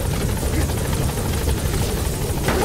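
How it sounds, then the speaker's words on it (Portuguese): A helicopter in the video game Metal Gear Solid V drones steadily with a heavy low rotor rumble that stays loud and constant throughout, with no speech over it. "O helicóptero já tá esperando a gente."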